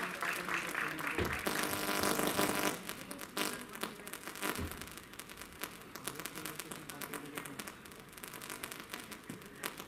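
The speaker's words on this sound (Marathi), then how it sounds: "एकदा जोरदार टाळ्या समर्थ महिला बहुउद्देशीय संस्थेसाठी" An audience at a Women's Day event applauds, a dense crackling clap that is fairly quiet and runs steadily for the whole stretch, slightly fuller at first and thinning later.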